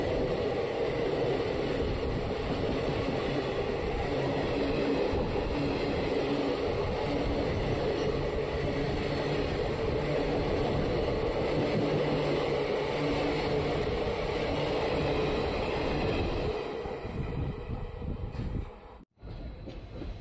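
Kuvempu Express train running toward Biruru Junction, a steady loud rumble of wheels and carriage noise throughout, easing slightly near the end, with no talking.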